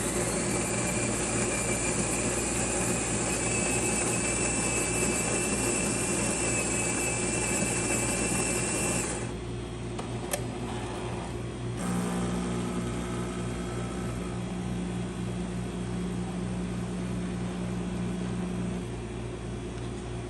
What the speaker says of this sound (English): Today we're testing this Jura Z5 espresso machine. And let's go ahead and pour a shot.